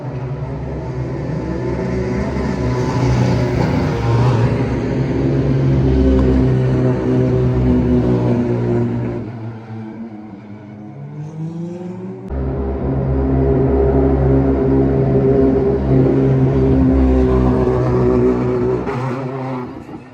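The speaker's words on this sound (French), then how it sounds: "le bruit de la Ferrari est quand même beau" A Ferrari race car engine on the track at Spa-Francorchamps roars loudly as it accelerates, with a rising whine, a brief drop-off as it shifts or lifts, then climbs again, strong and sustained.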